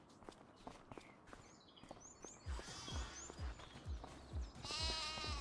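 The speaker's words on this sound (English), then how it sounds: "Sheep" Sheep in Farming Simulator 25 give a clear bleat at the end, with faint calls earlier, over a steady run of hoof-like footstep thuds.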